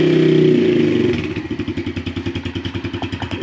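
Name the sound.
Yamaha TTR110 dirt bike engine starting and idling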